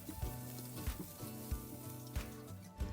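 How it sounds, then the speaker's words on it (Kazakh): Chopped carrots and celery fry in a pan after the onions for a bolognese sauce, a faint sizzle under soft rhythmic background music. "Кейін сәбіз бен селдерейді де қосамыз, оны да жұмсарғанша жақсылап қуырамыз."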